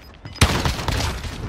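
Gunfire in an online shooter video game, one sudden loud blast followed by a dense rattle of further shots and booms, close and sustained to the end.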